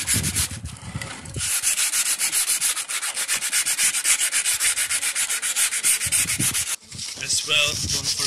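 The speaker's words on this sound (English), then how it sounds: "Take the sandpaper and sand off the edges" Brake parts on an Audi TT Mk2 being sanded by hand with sandpaper: a loud, close, steady rhythmic rasping of quick back-and-forth strokes with a brief pause near the end.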